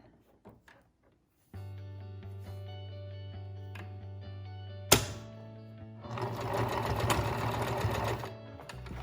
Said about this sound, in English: Okay, we're gonna sew down this side just a little bit.